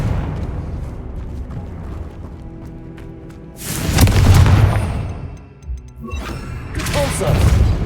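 A Confringo spell explosion in Hogwarts Legacy lands as a burst of booming, roaring blast noise, and a second blast follows soon after. Both are loud and close, rising out of quieter background game sound.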